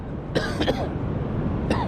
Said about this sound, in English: always start with a cough, don't I?